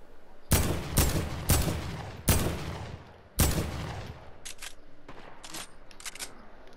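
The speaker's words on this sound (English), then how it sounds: "I'm just shooting at him." Gunfire in the video game Fortnite: five loud, evenly spaced shots ring out with decaying tails, followed by a few quicker, fainter shots near a gas station.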